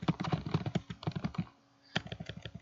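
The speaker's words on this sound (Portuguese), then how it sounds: "quando eu começo a digitar alguma coisa aqui" Typing on a computer keyboard while working in a Word document: rapid, close key clicks in an irregular run, a short pause, then another burst of keystrokes, no talk.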